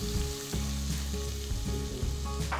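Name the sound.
ginger, garlic and cumin seeds sizzling in melted ghee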